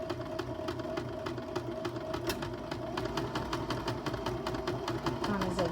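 A sewing machine runs steadily at close range, its needle moving back and forth in a fast, even mechanical ticking that continues throughout.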